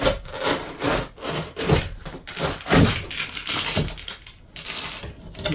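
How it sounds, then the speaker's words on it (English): Velcro tearing loose from the interior roof AC inlet cover of a Country Coach RV, a series of rough ripping and scraping bursts close by, with no talking. "You hear the Velcro?"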